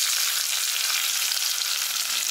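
Small shallots sizzling in hot oil with mustard seeds already popped, a steady, dense, loud frying hiss with no voices.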